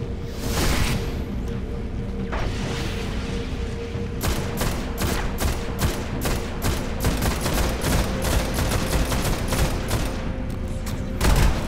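Sustained automatic gunfire in the sci-fi shooter Destiny, a long string of evenly spaced rapid shots with a louder burst at the start and a blast at the end, loud and close over a constant low game hum, no talk.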